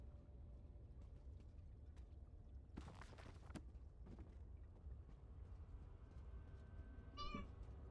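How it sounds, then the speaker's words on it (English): A cat meows in The Elder Scrolls Online: Greymoor, a few short meows at moderate distance over a steady game ambience, followed later by a brief rising mew. "Hi, kitty."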